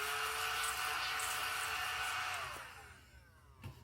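A small handheld vacuum cleaning up scratch-off residue runs as a steady close whirring drone, then cuts off and winds down, leaving a faint clunk near the end.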